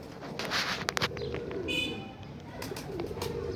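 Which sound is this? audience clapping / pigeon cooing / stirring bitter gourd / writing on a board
pigeon cooing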